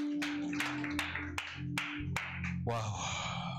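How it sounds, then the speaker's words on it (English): Sharp claps ring out in a church congregation, several strong beats spaced roughly evenly over a low hum of voices and a sustained musical tone, ending as a swell of sound rises. "Give God a good clap and say amen."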